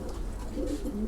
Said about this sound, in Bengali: লালপাত্তি কবুতরগুলো ডিম নিয়ে বসে আছে মাশাআল্লাহ